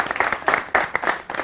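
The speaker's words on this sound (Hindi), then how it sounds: "इनके लिए एक दफा फिर से तालियां।" A studio audience on a morning television show claps, the sound coming in short, uneven bursts with brief dips between them, fairly close and without any speech.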